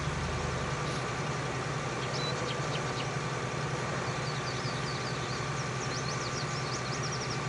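Tractor engine idling and running steadily in Farming Simulator 19, a continuous low droning hum with faint chirping tones above, no talk.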